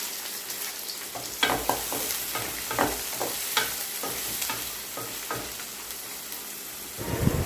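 Onions fry in a pan for a curry of white brinjal and dried fish, a steady sizzle broken by repeated scraping stirs, with a louder clatter near the end and no voices.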